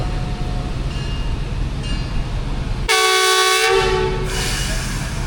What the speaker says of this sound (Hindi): ट्रेन मूव होना शुरू हो गई है। 39 अब जाफ़र एक्सप्रेस ZU20 6416।